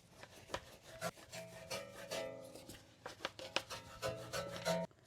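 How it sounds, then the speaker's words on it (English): A cleaning brush scrapes and rubs against the metal dust shield behind a wheel's brake rotor, making irregular scratchy rasping strokes, close and fairly quiet, with no talk. "What you're hearing is this thing hitting the dust shield behind the rotor."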